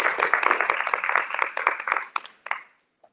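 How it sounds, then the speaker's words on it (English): An audience at an evening gathering claps, a dense burst of applause that thins into a few scattered claps and fades out within seconds. "So let's give them a round of applause."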